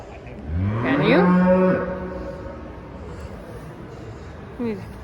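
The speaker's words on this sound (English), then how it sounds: "Cow goes moo." A cow at the Alaska State Fair gives one long, loud, close moo lasting about a second, then falls quiet amid faint fairground background noise, with a brief voice near the end.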